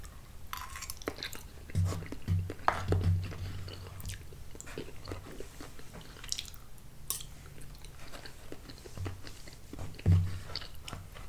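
Someone eats Campbell's Chunky Classic Chicken Noodle Soup up close, with soft wet chewing, slurps and a few crunchy bites amid quiet spoon clinks, intimate and low in level, with no speech.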